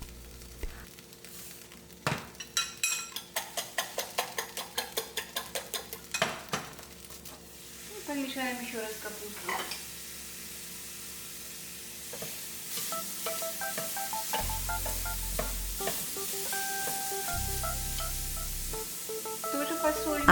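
A fork breaks up eggs in a frying pan with a quick run of rhythmic clicking strokes against the pan, then a steadier sizzle follows with occasional clinks and a low background hum.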